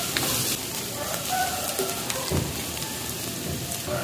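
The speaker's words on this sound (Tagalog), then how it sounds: "Sabay ko na po tong laurel para lumasa na. Gisahin natin maigi." Garlic, three medium onions and bay leaves sautéing in a pan, giving a steady close sizzle and crackle throughout with occasional stirring clinks.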